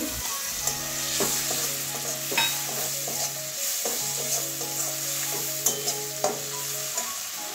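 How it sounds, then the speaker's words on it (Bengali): Chopped tomato frying in a pan for a pointed gourd chechki, a steady sizzle with scraping stirring taps throughout and a low tonal hum underneath, close and fairly loud, no talking. "ভালো করে ভেজে নেব। এবারে টমেটো কুচি দিয়ে দিচ্ছি"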